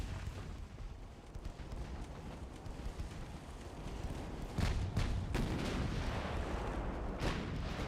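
Warship turret guns firing in Ultimate Admiral: Dreadnoughts, deep booming blasts over a windy rumble, with a heavy shot near the middle and several more sharp reports following.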